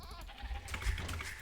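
A sheep bleats in a real-time strategy game, a short, wavering cry over low background game sound.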